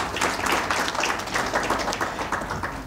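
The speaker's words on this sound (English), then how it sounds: "please give them a round of applause." Steady audience applause from a crowd at a panel event on East African competitiveness, a dense wash of many hands clapping at even loudness throughout, with no voices over it.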